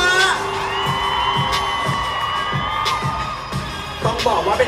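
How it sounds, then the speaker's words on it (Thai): A crowd at a Bangkok press conference for BamBam's first world tour encore claps and cheers steadily, with whoops and shouts rising over the applause and a few sharp bangs. "ปรบมืออีกครั้งฮะ"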